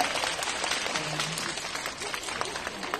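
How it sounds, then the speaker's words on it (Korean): A cinema audience at a live talk event applauding the actors and directors, a dense continuous wash of clapping from a crowd with faint voices mixed in. "다들 박수, 수고해 주신 배우님들과 감독님들 박수 한번 시원하게"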